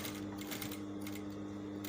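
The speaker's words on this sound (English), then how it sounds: "I'm going to sew and cross this point a little." A sewing machine stitches across the flap of a patch pocket with a faint, even mechanical whir and soft rhythmic needle ticks running without pause.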